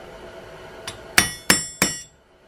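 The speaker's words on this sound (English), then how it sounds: "Make sure you're using a brass hammer," A brass hammer taps a part of a Winchester 94 rifle, one light tap followed by three sharp metallic strikes in a steady rhythm, close and clear with ringing decay.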